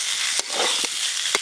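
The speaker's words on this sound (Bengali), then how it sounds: "ভেজে রাখা চিংড়ি মাছগুলো দিয়ে দেব" Fried prawns tipped into yam cooking in spiced masala in a pan, a bright continuous sizzle with a few quick scraping knocks of a spoon, close and fairly loud.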